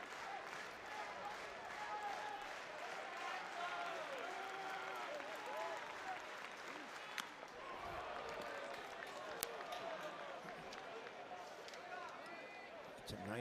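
Baseball crowd at Disch Falk Field during a college game, a steady wash of cheering and clapping with voices mixed in, heard at a distance throughout.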